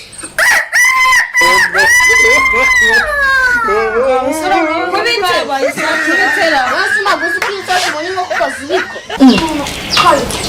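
Rooster crowing and hen-like clucking, most likely imitated by human voices: long, wavering crow-like calls followed by choppy clucks, loud and close, mixed with talk.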